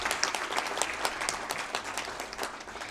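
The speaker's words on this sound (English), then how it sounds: "Let's have another big round of applause" An audience at a civil society conclave valedictory event in India gives a big round of applause, sustained crowded clapping with a few sharper individual claps standing out.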